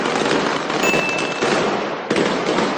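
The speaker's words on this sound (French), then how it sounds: "Le forcené armé est immédiatement stoppé par des dizaines de coups de feu." Dozens of gunshots ring out in a sustained, dense volley as an armed man is stopped, the shots packed together into a continuous loud crackle with a brief break and a fresh burst near the end.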